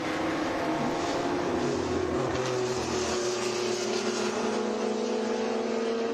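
At an endurance race, a lightweight BMW M3 chases a Ginetta, with engine drone and revving rising and shifting as the cars pass. The sound is moderately distant and continuous.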